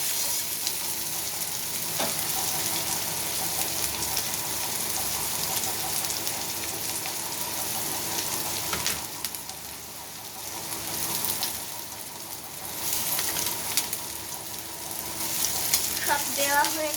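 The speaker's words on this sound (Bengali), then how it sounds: "তেলটা গরম হয়ে গেলে আদা কুচি, রসুন কুচি, পেঁয়াজ কুচি আর লঙ্কা কুচি দিয়ে ভেজে নেব।" Chopped ginger, garlic, onion and chilli frying in hot oil in a wok, a continuous loud crackling sizzle with occasional stirring clatter, no talk over it.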